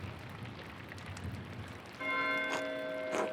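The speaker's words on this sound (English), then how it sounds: "Why is Matthew ringing the bell?" A monastery bell rings for Terce in the game Pentiment, a bright metallic toll with long sustained overtones that enters suddenly midway and strikes again near the end, heard over soft rain-like background noise.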